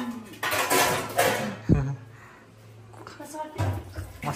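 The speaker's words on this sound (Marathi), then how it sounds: "नवीन फ्लॅटमध्ये भांडी घासत आहे" Dishes being washed in a new flat, with clattering pots and utensils and running water in short bursts while people chat nearby.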